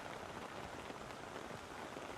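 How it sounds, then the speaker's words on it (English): Steady, dense rain pours down over an outdoor ground during a rain-soaked first-grade match between the Coffs Harbour Knights and the Armidale Blues, a continuous even hiss with no voices. "I think the rain has come here and it's set in."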